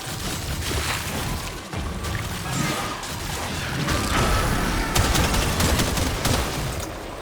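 Shotgun fire from the video game Warframe crackles in a dense, continuous barrage of blasts and impacts in a burning-tree arena, loud and close with no clear pauses.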